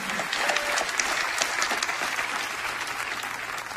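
A church congregation claps in loud, dense applause that continues steadily throughout, with no talk over it.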